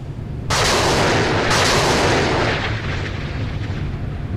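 A naval close-in defence weapon firing in the game Sea Power, a loud sustained roaring burst that starts abruptly, surges again, and then rumbles on at a slightly lower level.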